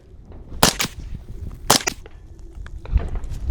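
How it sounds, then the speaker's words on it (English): Two sharp, loud reports from a suppressed rifle ring out about a second apart, each a short crack with quick decay, followed by softer handling clicks and rustles. "now we're gonna go throw the suppressor on real quick and shoot it again"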